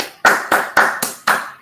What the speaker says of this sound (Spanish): Yo le doy un aplauso.